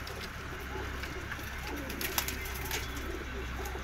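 Pigeons kept in breeding pairs, a flock of around twenty-five pairs, coo softly in the background under a constant noisy hiss, with a few faint knocks and no clear talking.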